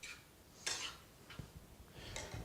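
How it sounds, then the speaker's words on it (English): A spoon stirs taco filling in a cooking pot, a few soft scraping clinks and knocks against the metal at irregular intervals, quiet and close with faint sizzling underneath, no talking. "Actually give it one more stir here."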